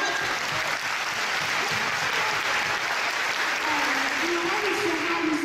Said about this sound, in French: On applaudit Jade